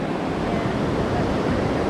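The Toxaway River on the Foothills Trail rushes past, giving a steady, full wash of flowing water close by that continues alone with no talking.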